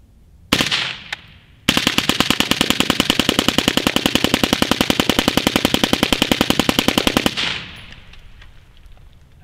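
A Magpul D60 drum magazine is emptied in one long, loud, rapid burst of gunfire after a single opening shot, the evenly spaced reports running for several seconds before stopping.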